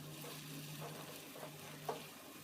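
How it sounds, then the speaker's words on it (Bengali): Rice and red lentils are stirred together in a pan, a soft continuous sizzle with a few faint scraping strokes and a quiet low hum underneath. "এখন এই চাল ডালগুলোকে একসাথে ভালো করে মিশিয়ে নিতে হবে।"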